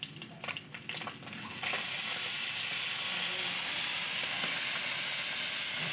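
Fish fries in a pan on a home stove, a steady bright sizzle and hiss that builds after a few light clinks and then holds evenly, faint and alone.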